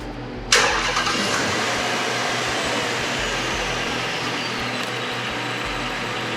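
Engine cranks with a sharp burst and fires up in a workshop, then settles into a steady, loud, slightly pulsing idle that runs on unbroken.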